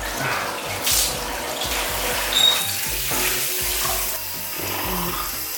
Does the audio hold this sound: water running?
yes